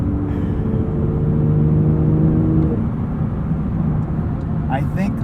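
A 2023 Porsche 911 GT3 with a manual gearbox accelerates, its engine giving a steady loud whirring rumble with rising tonal notes, close up, before easing off near the end.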